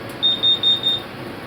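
Carbon monoxide alarm in an enclosed workshop with a coke forge, giving four sharp high-pitched beeps in quick succession over a low background hum.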